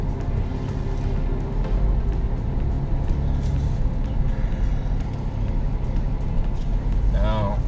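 A van rolls along on a test drive after brake pad work, its front end earlier shaking through the steering; steady road and engine rumble fills the whole stretch, with a brief tonal squeal near the end.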